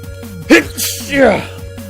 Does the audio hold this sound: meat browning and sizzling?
no